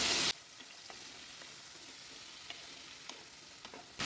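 Finely chopped tomatoes fry in a pan for a moong dal and are mixed in. A quiet, even sizzle carries light scattered stirring clicks, with louder bursts at the start and end.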